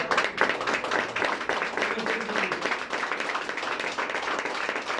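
A church congregation standing to clap during a sermon, a crisp and fairly loud patter of hands with some audible individual claps, steady for about five seconds.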